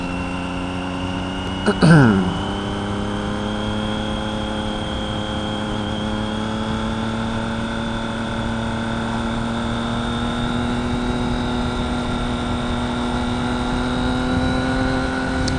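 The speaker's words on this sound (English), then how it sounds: "Let those cars get ahead of us." Car engine humming steadily while driving along a road, a continuous tonal drone with a short bump of louder noise early on and the engine pitch rising gradually.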